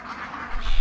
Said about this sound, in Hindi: भोजन प्रचुर मात्रा में होने के कारण पक्षी बड़ी शांति से अपना पेट भरते रहते हैं।